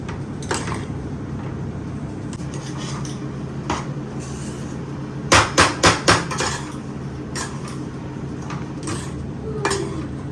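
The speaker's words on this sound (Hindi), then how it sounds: "और मैं यहाँ पे क्रश कर रही हूँ गोंद और कमरकस" Gond (edible gum) and kamarkas being crushed by hand, heard as a few sharp knocking strikes in a quick cluster midway, with scattered lighter taps against a steady low kitchen hum.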